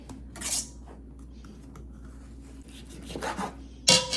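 A kitchen knife scrapes and saws through tough salmon skin, giving several short, close rasping strokes at irregular intervals, with a sharper scrape of the blade against a plate or board near the end.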